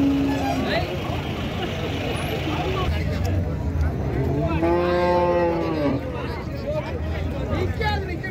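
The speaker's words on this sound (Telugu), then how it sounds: "ఇక్కడైతే అన్నీ కూడా హెచ్ఎఫ్ అండ్ జెర్సీ ఆవులు అయితే వస్తుంటాయి" HF and Jersey cows at the busy Erode cattle market, with one long, loud moo rising midway over constant crowd babble and people talking nearby.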